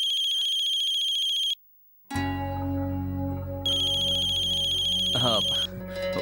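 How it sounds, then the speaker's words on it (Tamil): Electronic phone ringtone in a Tamil TV drama, a bright repeating melodic ring that stops briefly and resumes, with a voice speaking over the later part. "ஒரு நிமிஷம் ஃபோன்."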